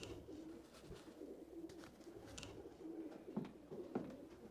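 Racing pigeons coo softly in repeated low, rolling phrases, several birds overlapping at close range against a faint background hum, with no talking.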